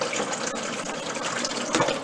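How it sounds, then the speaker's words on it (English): Water pours steadily into the reservoir of an older Keurig coffee maker, a continuous close splashing gush lasting about two seconds with no talking. "Let's fill up the water."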